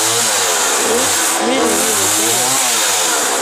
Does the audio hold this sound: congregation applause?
no